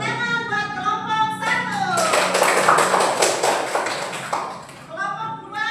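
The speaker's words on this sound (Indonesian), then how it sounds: "Tepuk tangan buat kelompok" Classroom group clapping for a student group in a lesson, a burst of claps from roughly 1.5 to 5 seconds with children's voices chattering before and after.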